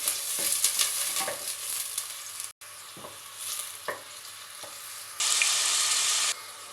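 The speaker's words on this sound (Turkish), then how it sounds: "soğanlarımızı koyuyorum. Ve bir güzel karıştırıyoruz." Onions sizzle loudly in a hot pan while a utensil stirs and scrapes through them in several strokes, with the frying briefly louder near the end.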